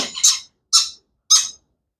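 An Indian ringneck parrot chick gives three loud, harsh squawks at a steady pace, close up, with silence between the calls.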